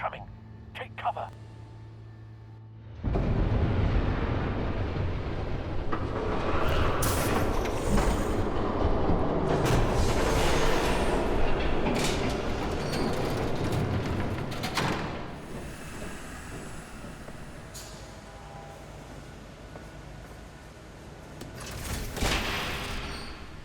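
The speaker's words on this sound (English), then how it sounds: "There's a train coming. Take cover." A train roars past in Batman: The Telltale Series, a loud, steady rushing rumble with rattling clatter that bursts in suddenly after a quieter start, holds throughout, then eases slightly near the end.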